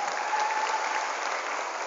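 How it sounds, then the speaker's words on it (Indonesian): Seminar audience at a motivational public speaking event breaking into continuous applause, a steady wash of many hands clapping together. "Tepuk tangan untuk kita semua hari ini."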